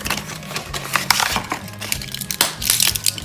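A throat lozenge is pressed out of its packaging with close, crackly crinkling and crushing of plastic and foil in irregular bursts, with no talking.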